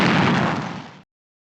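A single cannon blast booms out as a loud, broad burst that holds for about a second, then cuts off abruptly into silence.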